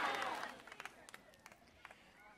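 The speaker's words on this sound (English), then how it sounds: "I'd like to have a big round of applause for our own Miss Patty Simcox" An audience at a school dance applauds. The clapping starts strong, then thins to scattered individual claps and fades out, fairly distant.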